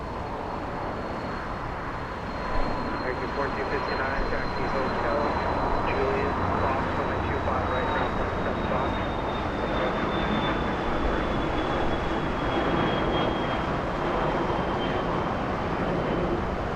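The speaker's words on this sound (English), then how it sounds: "NetJets, a Cessna 560 Citation." A NetJets Cessna 560 Citation jet at Los Angeles International Airport gives a steady, broad engine roar with a slowly falling high whine, continuous and fairly close throughout.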